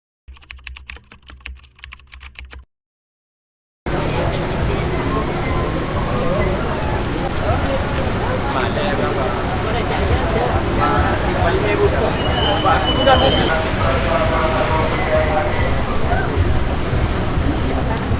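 After a brief pause, steady rain patters densely and close, a continuous crackling hiss with scattered louder drops and faint voices in the background.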